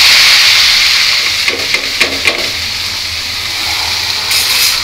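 Onion stalks and a new potato dropped into hot oil in a wok, a loud close hiss with a few sharp crackling bursts in the middle, then a steady sizzle.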